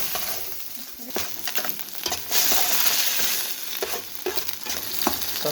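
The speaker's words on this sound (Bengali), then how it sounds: "সাফার ডিমটা সরিষার তেল দিয়ে ভাজা হচ্ছে।" An egg frying in mustard oil, a close crackling sizzle with occasional spatula scrapes and stirring knocks that swells midway, with no voices.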